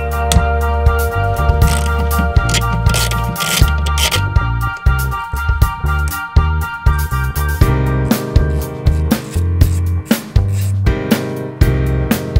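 A hand ratchet working on the spark plugs of a BMW E36, clicking in repeated rapid bursts up close over a steady loud tonal hum.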